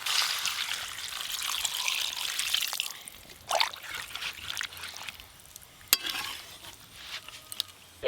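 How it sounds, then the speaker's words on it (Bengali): Water goes into a pan of cauliflower rezala curry, making a soft trickling pour over a faint simmering sizzle, with a couple of light clinks, quiet and close. "এবার আমি জল দিয়ে একটু ভালো করে ফুটিয়ে নেব।"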